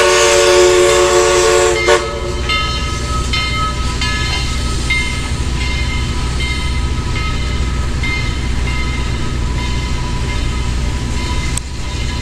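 Steam locomotive 4501 pulls into Grand Junction, opening with a loud horn blast that cuts off after two seconds, then a steady rolling rumble with rhythmic rail clicks and another brief horn near the end.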